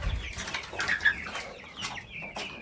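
Chickens and roosters on a small hobby farm: a few nearby clucks and calls sound out, with a short flutter of wings near the start, all fairly quiet and scattered.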